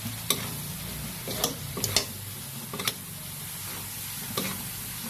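Wide rice noodles stir-fried in a little lard for pad see ew sizzle softly and steadily, broken by several sharp spatula clacks against the pan.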